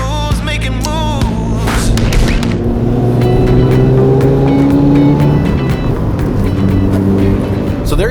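A Mazda RX-7 GSL-SE with a rotary engine drives along, its loud, continuous engine drone rising and falling in pitch as it accelerates and shifts, heard from close up.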